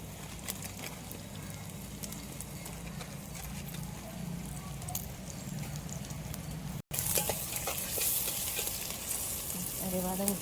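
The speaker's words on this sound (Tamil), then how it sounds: "வெங்காயம் நல்லா வதங்கட்டும்." Onions frying with salt in a pan for a Tamil lady's finger curry, a continuous soft sizzle with occasional stirring scrapes and light crackles, close by and fairly quiet.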